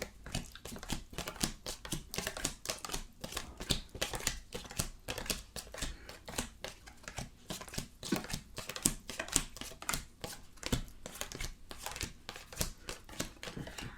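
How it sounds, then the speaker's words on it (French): Tarot cards being dealt out one after another and then covered, a quick steady run of close, crisp papery slaps and shuffles with no talk. "je vais poser 6 cartes pour voir ce qui ressort"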